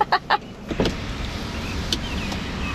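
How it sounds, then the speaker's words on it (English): The power window of a Mitsubishi Outlander rally car rises with a short, faint electric motor whine after a few soft clicks, inside the vehicle. "I'll put the window up this time"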